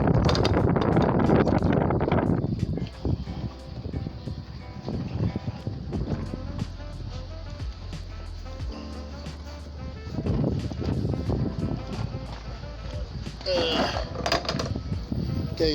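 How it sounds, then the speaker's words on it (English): Gusty wind buffets the microphone in loud rumbling bursts, strongest at the start and rising again in waves, with faint background noise beneath. "so sorry about the wind. It's windy today"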